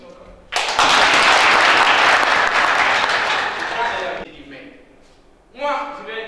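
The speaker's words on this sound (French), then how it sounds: "Vous avez des acclamations quand même." A conference audience breaks into loud applause that holds for several seconds and then fades as a speaker resumes talking.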